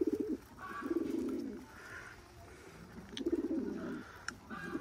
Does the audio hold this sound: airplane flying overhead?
no